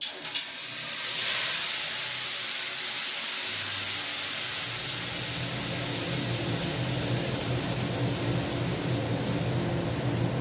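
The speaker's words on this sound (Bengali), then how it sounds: "কড়াই গরম হয়ে গেছে আর আমি এই মাংসটাকে ম্যান্ডেট করে রাখা ছিল সেটা এবার দিয়ে দেবো" Marinated meat hits a hot wok and sizzles, a bright hiss that flares up then settles into a steady, even frying crackle with no talking.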